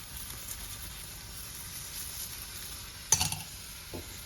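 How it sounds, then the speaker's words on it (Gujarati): A paratha roasting in ghee on a hot pan gives off a faint, steady sizzle, with a brief scrape or clatter near the end. "આપણું પરાઠું શેકાઈ ગયું છે. હું ઘીમાં શેકું છું"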